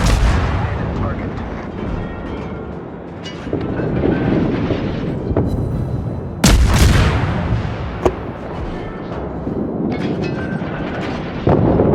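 Naval artillery fires in World of Warships: heavy booming gun blasts over a rumbling battle backdrop, with a sharp loud salvo midway and further thuds after, all at close range.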